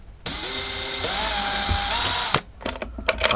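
A drill bores a small pilot hole with a 1.5mm bit, a close, steady whirring hum that rises in pitch as it spins for about two seconds before stopping, followed by a few light clicks and handling noises.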